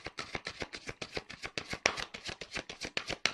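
Playing cards being shuffled and drawn for a reading, a close, steady run of quick riffling flutters in rapid rhythmic bursts, with a few sharper snaps near the end.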